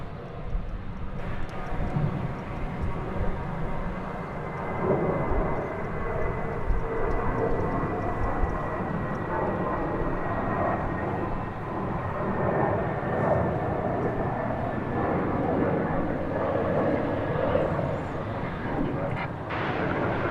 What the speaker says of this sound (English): we do have an MD-11 getting ready to take off